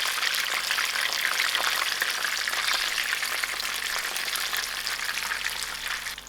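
Masala-coated fish frying in hot oil, a dense continuous sizzle and crackle held close and fairly loud throughout, with no voices.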